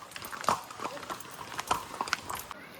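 Horse hooves clip-clop irregularly on a wet trail at Matheran in the rain, faint to moderate steps close by with no talk.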